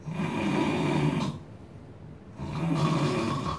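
A voice imitates snoring: two loud, rumbling snore breaths close to the microphone, separated by a quieter pause.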